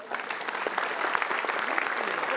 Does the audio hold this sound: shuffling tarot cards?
no